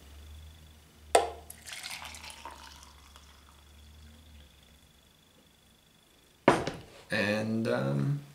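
Hot water is poured in two short splashy bursts, the second a longer steady stream into a container, close by in a quiet setting with a faint background hum.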